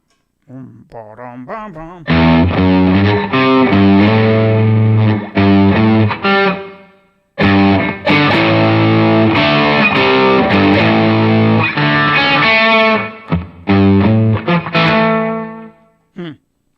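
Heavily distorted electric guitar plays a riff in bursts with short pauses, loud and close, preceded by a brief wavering slide.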